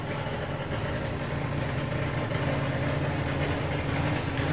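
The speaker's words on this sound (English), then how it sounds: "So nice to hear that supercharged whine again" Supercharged drag racing car at a drag racing festival, its engine giving a steady, loud mechanical drone with a continuous whine running throughout, no pauses or talk.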